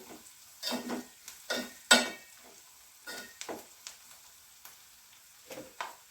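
Vegetables with half a spoon of turmeric are sautéed in a pan. Repeated close scraping and stirring strokes come in irregular bursts over a faint background sizzle, and no one speaks.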